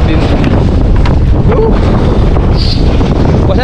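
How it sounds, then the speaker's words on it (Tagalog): Strong wind roars loudly and steadily into the microphone on a small fishing boat at sea, with a constant buffeting rumble and the boat and water underneath. "Pasensya na po kayo at medyo maingay ang hangin."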